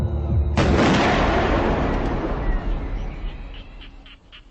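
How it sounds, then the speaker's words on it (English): A single loud gunshot in a documentary execution scene in a forest near a Javanese village, a sudden blast followed by a long, rolling echo that fades over several seconds. "Here he is shot in the back of the head."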